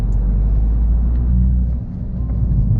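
Mini Cooper S R56 exhaust at high revs, heard as a steady, heavy low rumble and drone from inside the car, loud and continuous with a slight dip midway.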